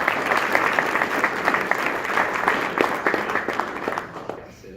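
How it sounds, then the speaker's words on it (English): A class gives a participant a round of applause, a close, loud burst of many hands clapping that holds steady and then tapers off at the end. "Let's give him a round of applause."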